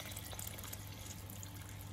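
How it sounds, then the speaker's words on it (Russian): Warm boiled water pours from above into a pan of fried carrots, giving a faint, continuous splashing wash with no breaks over its short run. "Теперь мы заливаем теплой кипяченой водой"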